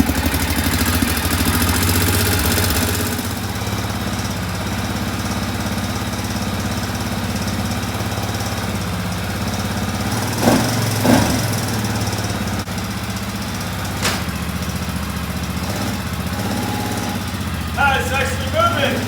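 A rebuilt Arctic Cat 400 ATV engine runs with a steady low mechanical drone throughout, rising slightly in a couple of brief revs, while a person talks over it.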